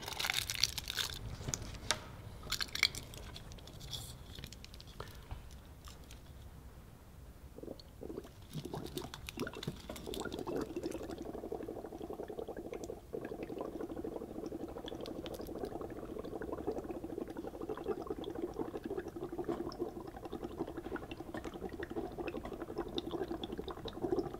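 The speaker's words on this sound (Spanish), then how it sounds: "Pondremos un poquito de papel de aluminio para que al soplar las burbujas no, no salpiquen." Air is blown through a tube into a solution for a carbon dioxide detection experiment, with aluminium foil over the top; continuous bubbling and gurgling builds from sparse blips into a steady churning stream, close and fairly quiet.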